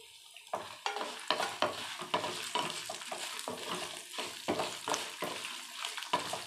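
Garlic and dried chillies fry and sizzle in a pan for lemon leaf chutney, with repeated stirring scrapes in an irregular rhythm over a steady hiss, close and clear, with no talk.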